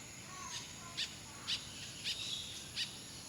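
Soft outdoor ambience is broken by a handful of short, bright bird calls repeating about every half second, with a faint insect hum beneath, all quiet and distant.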